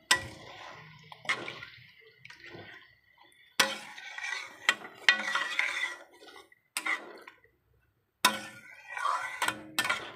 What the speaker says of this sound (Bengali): এবারে আমি দিয়ে দেব জল, আর একটু জল দেব, দিয়ে এখন ভালো করে এটাকে সুন্দর করে ফুটিয়ে নেব